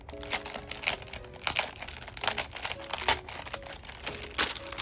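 Plastic and cardboard packaging holding keychains is peeled and crinkled open, a close, busy stream of crackles and rustles with brief tonal squeaks, no talking.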